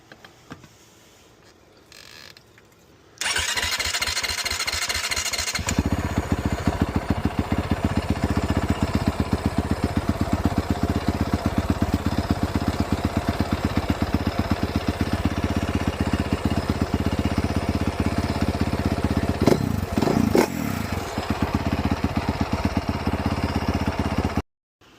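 A 2018 Honda CR450R dirt bike engine, freshly fitted with a new fuel pump and filter, cranks and fires up, then runs at a steady, loud, close idle with a rapid chugging beat, briefly blipping the throttle near the end.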